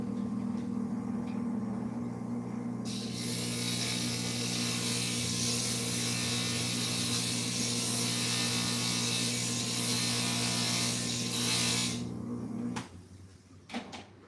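A power grinder runs steadily on a thin wooden puzzle piece, giving a loud continuous whirring buzz with a harsher grinding layer that stops abruptly near the end, followed by brief handling noises.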